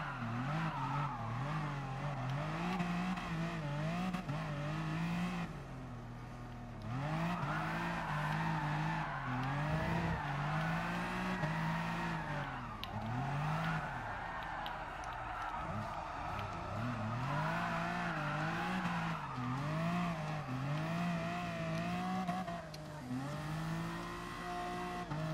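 A BMW M4 Group 4 drifts through corners in Gran Turismo Sport, its engine revving hard and rising and falling in pitch as the tires squeal through each slide, loud and continuous with brief lifts between corners.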